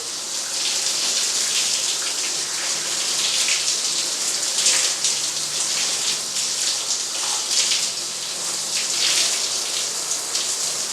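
Water pours steadily from a tap or shower over a person's head during a hair wash, a loud, even hiss and patter lasting throughout with no talking.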